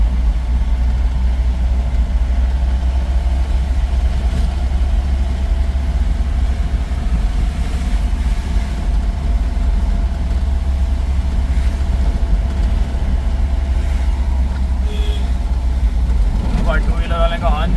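A car engine hums steadily at close range on a badly potholed road at night, with a constant low rumble and road noise throughout, a few faint rattles and clicks near the end.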